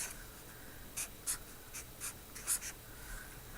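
A marker squeaks across a board while an equation is written out, making several short, separate strokes at an uneven pace with quiet pauses between them.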